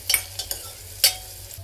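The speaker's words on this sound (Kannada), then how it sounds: "ಬ್ರೌನ್ ಆನಿಯನ್ಸ್ ಮಾಡೋಕ್ಕೆ ಫ್ರೈ ಮಾಡ್ಕೋಬೇಕು. ಇದನ್ನು ಚೆನ್ನಾಗಿ ಬ್ರೌನ್ ಆಗೋವರೆಗೂ ಹುರ್ಕೋಬೇಕು." Onions fry in oil while a spoon scrapes and stirs them in the pan, a few quick scraping strokes over a soft sizzle, no voices.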